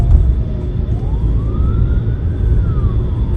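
An ambulance siren on a road wails in one slow rising-then-falling sweep, loud and fairly close, over heavy low traffic and engine rumble.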